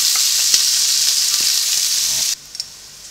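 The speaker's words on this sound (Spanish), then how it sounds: "Una vez que ya está caliente el aceite, tiramos la cebolla" Onion and garlic tossed into hot oil on a plough disc sizzle loudly and steadily up close, then the hiss cuts off sharply near the end, leaving a couple of faint clinks.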